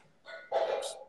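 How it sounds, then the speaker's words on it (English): A dog at a door gives a short, close burst: a brief whine, then a loud bark with a yelping edge, all in just over a second. "Got a dog at the door here."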